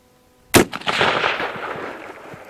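A single sharp rifle shot from a Winchester 1894 cracks outdoors, followed by a rolling echo that fades over about two seconds.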